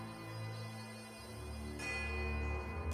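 Bells ring in the Pillars of Eternity II video game, a sustained, layered metallic ringing that swells and grows fuller partway through, with no voices.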